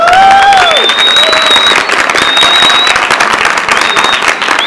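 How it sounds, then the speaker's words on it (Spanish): An audience at a storytelling performance at the Bogotá book fair bursts into loud, sustained applause with scattered cheers and a couple of rising whistles, filling the room throughout. "pidiéndoles un aplauso para él."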